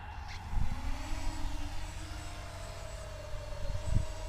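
A Yuneec Breeze drone takes off, its motors producing a steady, rising electric whine with a low hum, close by and continuous throughout.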